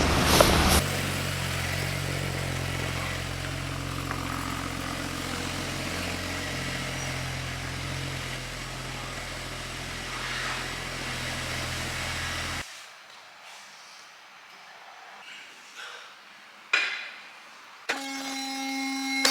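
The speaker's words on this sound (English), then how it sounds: "So let's bring the car in" A Ford FG XR6 Turbo engine idles and rumbles steadily nearby in a workshop for several seconds, then cuts out, leaving quiet with a few clunks and a brief electronic beep.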